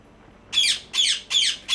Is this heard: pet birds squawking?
yes